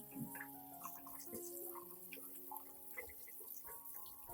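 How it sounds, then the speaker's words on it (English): Water runs from a tap in a soft, steady trickle, with faint splashing and small ticking drips over quiet background tones. "rinse the entire plant under clean running water with moderate pressure"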